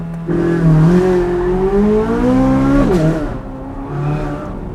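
A C8 Corvette Z06 launching from a standstill: a loud, rising engine roar climbs steadily for about three seconds, breaks off sharply at the upshift, then pulls again, with tire noise under it and no talk.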